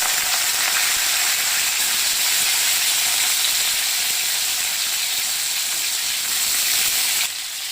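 Raw plantain pieces hit hot oil where mustard seeds are spluttering, giving a loud, dense, continuous sizzle and hiss that holds steadily before dropping slightly near the end, with no talking.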